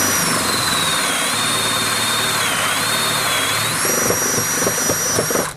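A drill runs with a spring-loaded 35 mm bit boring hinge cup holes in wood, a loud steady motor whine with shifting pitch that ends in short rattling bursts as the cut finishes.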